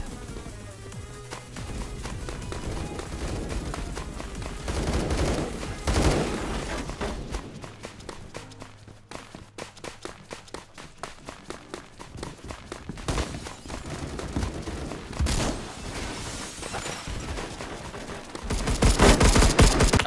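Automatic gunfire in Roblox Phantom Forces: rapid bursts and volleys of shots come close and loud, pausing briefly mid-way, with running footsteps between the bursts and a heavy final barrage.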